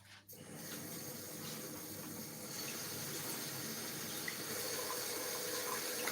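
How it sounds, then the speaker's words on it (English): A kitchen tap runs steadily over fresh basil being washed, a continuous close splashing stream of water that holds even from start to end. "So fresh basil, I'm going to wash that."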